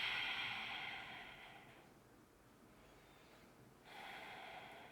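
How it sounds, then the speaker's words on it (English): Slow yogic ujjayi breathing through a slightly narrowed throat, a soft hissing exhale that fades away, a quiet pause, then another breath rising; close and gentle, with no talking. "Narrowing the throat just a little bit on the exhales for that ujjayi breath."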